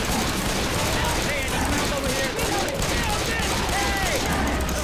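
Continuous rapid gunfire aimed at a Tank in the video game Left 4 Dead 2, a dense unbroken barrage of shots under a wash of game noise, steady and loud.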